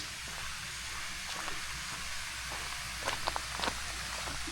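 A small waterfall on a state park trail in Oklahoma gives off a steady, even rush of splashing water at moderate distance, with a few faint clicks and taps over it.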